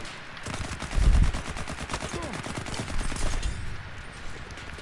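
Gunfire in the World War I shooter Battlefield 1, a dense, continuous rattle of rapid shots with a loud heavy thump near the start, sounding close and busy throughout.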